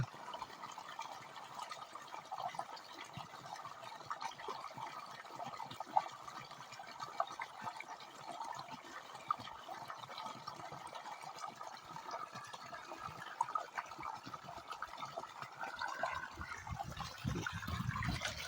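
Water is poured into a bucket for mixing a solution on a farm, a continuous soft splashing trickle with faint drips, fairly quiet and steady, growing slightly stronger toward the end.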